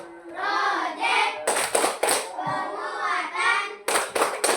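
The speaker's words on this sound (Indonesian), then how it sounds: "Kasih tepuk dulu. Tepuk P5." A class of schoolchildren claps a rhythmic chant together, sharp bursts of hand claps in patterned groups alternating with their sung or spoken chant lines, close and lively in a classroom.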